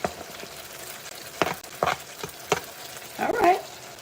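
Onions frying in a pot for curry goat, close stirring scrapes and short sizzling bursts at irregular intervals.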